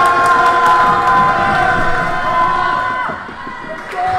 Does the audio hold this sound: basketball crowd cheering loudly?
yes